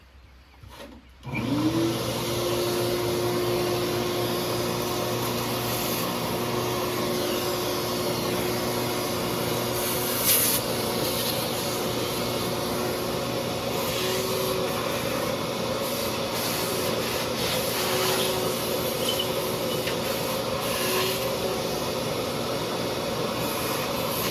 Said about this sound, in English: So I'm gonna vacuum that out.